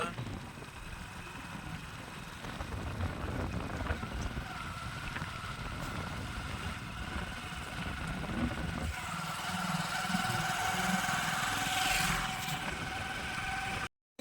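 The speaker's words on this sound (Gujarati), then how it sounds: "તો ગાઈસ ફાઇનલી આપણે નીકળી જઈએ બાઇક લઈને" A motorcycle engine runs steadily as riders set off, a continuous mid-pitched drone mixed with wind rush, close and even throughout, with no clear voices over it.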